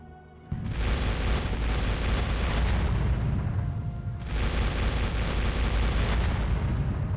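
Bombers strike targets in a World War II strategy game, producing two long waves of heavy, rumbling explosions, each roaring for several seconds and then thinning out. No voices are heard.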